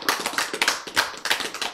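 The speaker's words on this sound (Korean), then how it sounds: "박수!" An audience at a Korean church sermon breaks into brief applause, a short burst of scattered, fairly close hand claps without a steady rhythm.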